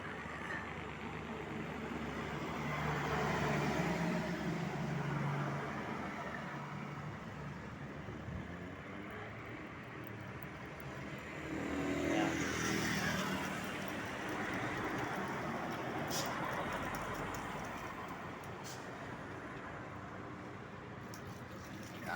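Highway traffic at San Agustin, San Fernando, Pampanga, with cars and motorcycles passing as a steady, fairly distant roar that swells and fades as vehicles go by.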